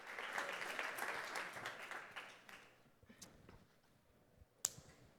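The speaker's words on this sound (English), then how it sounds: "if we can get a round of applause for them" A conference audience applauds for a few seconds, a dense burst of clapping that tapers off into scattered claps and quiet.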